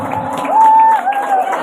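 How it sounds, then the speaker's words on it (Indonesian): Crowd cheering and applause at a school student council (OSIS) election at a vocational high school as a candidate pair is introduced, loud and close, with a whistled tone rising over the shouting. "Beri tepuk tangan yang meriah untuk mereka berdua."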